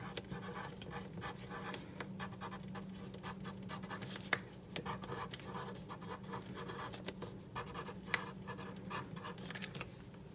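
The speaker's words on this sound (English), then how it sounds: "So I'm going to also write down help with homework." A pen scratches steadily across a paper bookmark as someone writes by hand, faint and close, in soft continuous strokes with a couple of sharp taps, and no one talking.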